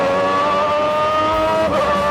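Lamborghini 3.5-litre V12 Formula One engine in a Larousse race car screams loudly and up close with a sustained, harmonically rich high-pitched wail, its pitch shifting briefly near the end as it changes revs.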